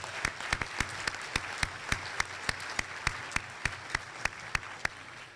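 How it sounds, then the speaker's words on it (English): Applause at a Seattle Fire Department awards luncheon for the Walter Kilgore Memorial Honor Guard and Pipes and Drums: a steady wash of clapping with sharp, evenly spaced beats like rhythmic claps running throughout. "one more round of applause is necessary for the Walter Kilgore Memorial Honor Guard and Pipes and Drums"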